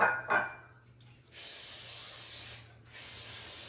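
Two short bursts of aerosol cooking spray hiss close up onto a pan, separated by a brief pause, after a faint clatter at the start.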